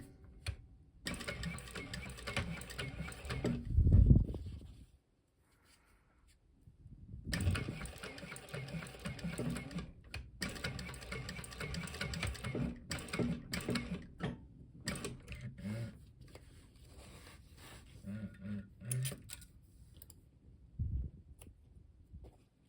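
A sewing machine stitches a mini backpack in several bursts of rapid, rhythmic whirring and clatter. Short pauses separate the runs, and a louder thump sounds partway through.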